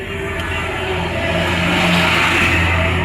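Cars rush past fast on a road at night in Denpasar, Bali, a loud close engine roar that swells and builds over the span.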